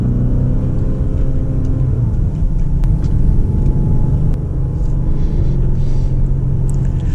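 Lamborghini Urus SUV with its 640-horsepower engine driven fast, a loud steady low rumble of engine and road noise filling the cabin throughout, with no speech.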